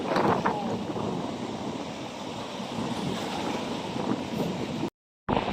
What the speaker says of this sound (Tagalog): Bumabalik na po yung alon.